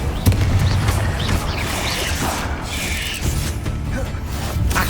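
Bombarda blasting spell in Hogwarts Legacy, a sharp booming burst at the start followed by crackling debris, creaks and rumbling game effects.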